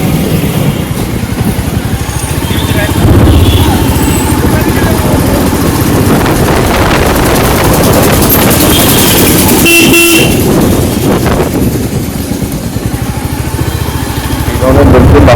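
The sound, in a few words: motorcycle engine and horns on a road trip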